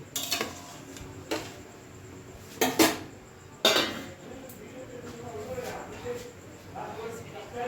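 A metal lid set onto a cooking pot of vegetable pulao with water added, giving a few sharp clanks and clinks close by, scattered over several seconds amid light kitchen noise.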